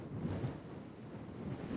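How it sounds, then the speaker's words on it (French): Desert wind blows over sand at a paleontology dig, a steady low rumbling roar with gusty buffeting against the microphone and no voices. "le vent souffle sur le sable"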